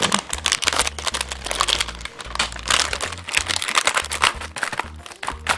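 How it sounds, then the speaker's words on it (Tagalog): A seaweed packet is cut open with scissors at very close range, giving dense crinkling and crackling of the plastic wrapper with quick snips and rustles that continue throughout, loud and without talk. "buksan na muna natin tong seaweeds gamit ang gunting"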